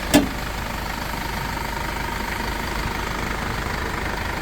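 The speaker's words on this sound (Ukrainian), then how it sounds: "Двигунчик працює ідеально." A 2017 Mercedes-Benz Sprinter van's diesel engine idles steadily and evenly at close range after a brief click at the start, with no talking.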